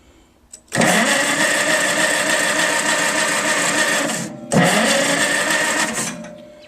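A Farmall 230 tractor engine being jump-started off a battery with jumper cables, two long close cranking bursts, a loud steady grinding churn that stops briefly before the second crank and then cuts off.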